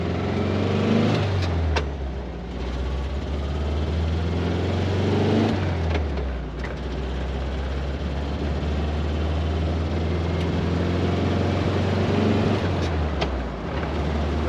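The air-cooled engine of a 1973 VW Thing pulls up a hill in a steady, loud low drone that dips and rises with gear changes, heard from inside the open convertible.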